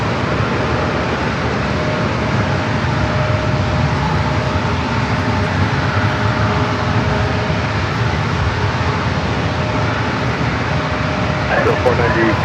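A Boeing 757 jet departs San Diego airport, a loud sustained engine roar with broadband rumble holding steady throughout, while voices talk over it.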